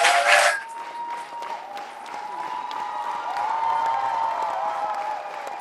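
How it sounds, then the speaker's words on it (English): Brief applause at a university commencement ceremony for graduates, a short burst at the start that quickly fades, followed by a steady tonal hum and faint room noise. "just let us make sure you get all of the applause that you deserve"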